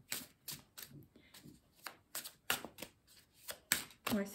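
Tarot cards are drawn and laid down in a series of about a dozen crisp, close snaps and slides at an irregular, quick rhythm, with no speech over them.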